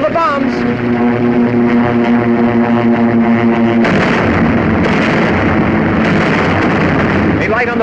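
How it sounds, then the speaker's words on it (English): Heavy booming blasts and rumbling explosions from an aircraft attack, loud and continuous, mixed with droning engine noise and sustained tones throughout. "Watch the plane. There go the bombs."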